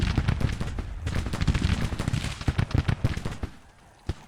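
Rapid cracking volleys of artillery and gunfire from the Civil War strategy game Grand Tactician, many overlapping close shots in an uneven rattle that thins out toward the end, with one last isolated bang.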